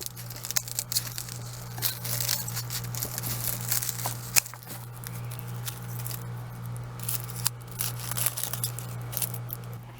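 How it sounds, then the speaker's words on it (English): Garlic leaves being cut off hardneck garlic bulbs saved for planting, giving soft crinkly snips and rustling of dry foliage over a steady low hum, close and fairly quiet throughout. "And then I'm just going to"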